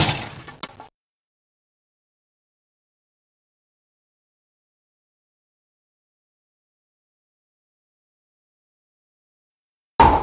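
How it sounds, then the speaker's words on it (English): A closet door slams shut in the video game Deathstalker, a short burst of cracking, clattering impact at the start, then long silence before another brief knock at the very end. "I tossed it into a closet and slammed the door shut."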